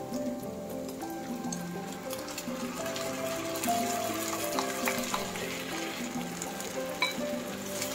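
Spaghetti stirred through sauce in a pan, a steady close sizzle and wet frying crackle running throughout with soft scraping of the spoon, no voices.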